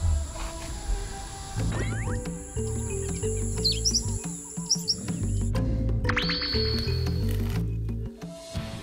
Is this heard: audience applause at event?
no